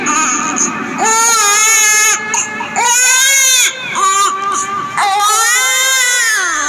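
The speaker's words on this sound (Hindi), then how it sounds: "कोई बच्चा रो रहा है।" A baby cries loudly and close by near a riverbank, a run of wailing, rising-and-falling sobs with short gasping breaks between them.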